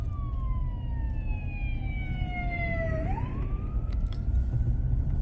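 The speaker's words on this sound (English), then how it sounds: "We got a fire truck coming now." Fire truck and ambulance sirens wail along a snowy, icy road near Lake Tahoe. A long tone slides down and then swings back up over a steady rumble of traffic, heard from a moderate distance.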